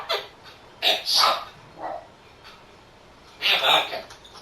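A pet parrot mimics a dog in several short, sharp barks, close and moderately loud, spaced irregularly across the moment with quiet gaps between.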